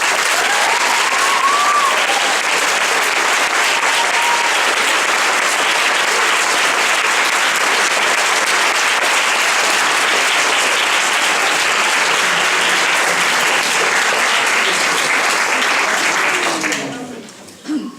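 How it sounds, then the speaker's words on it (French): Dense, sustained applause from a graduation ceremony audience at an international lycée, loud and continuous for about seventeen seconds before cutting off abruptly. "Et je vous propose aussi d'applaudir America."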